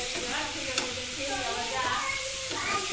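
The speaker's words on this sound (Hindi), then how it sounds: "इसको हम अच्छे तरह से मिक्स कर देंगे अच्छे तरीके।" Tomato and onion sabzi is stirred in a pan, a close, steady sizzle with soft scraping strokes of the spoon and a brief clink, continuous and unaccompanied by talk.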